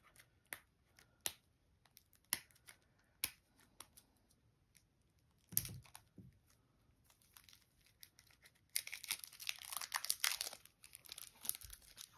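Crinkly plastic shrink wrap being pulled and torn off a boxed two-player card game, with sharp snapping crackles at first, then a sustained burst of dense rustling crinkles near the end.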